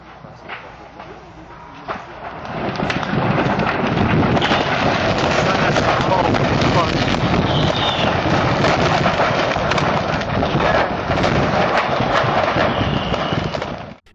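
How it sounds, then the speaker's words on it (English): A fireworks factory blast sets off a fire: a sudden thump, then a loud, sustained roar of dense crackling and popping that runs on for over ten seconds before cutting off. "a colossal blast tore through the facility, triggering an intense fire that consumed the premises"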